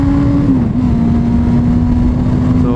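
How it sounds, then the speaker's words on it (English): A 2022 Honda CB400 Super Four Spec 3 runs on a night ride, its inline-four engine droning loud and close with a steady whining pitch that dips briefly and then holds, with no voices. "So this is the VTEC"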